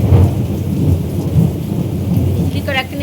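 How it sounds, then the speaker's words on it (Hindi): Heavy rain pours down with a deep, rolling rumble of thunder underneath, a loud, steady wash of noise close by and with no one talking, and a faint brief tonal squeak near the end. "तो इतना तेज़ बारिश हो रहा है"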